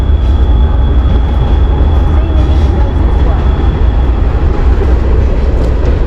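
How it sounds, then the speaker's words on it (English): A train rumbles past as a steady, loud low roar with a faint high whine, continuous throughout and never fading. "There goes the train."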